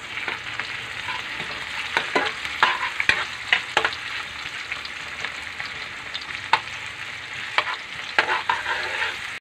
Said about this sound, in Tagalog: Gisa natin hanggang magiging golden brown yung bawang.